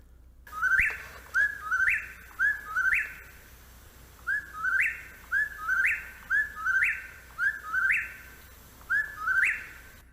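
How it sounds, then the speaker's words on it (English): A whippoorwill calls repeatedly at night, its clear rising-and-falling whistled phrase repeated about ten times in a steady rhythm, close and distinct over a quiet background. "an audio recording. That's actually a video, but it was taken at night anyway, to give you an example of how the whippoorwill's call sounds."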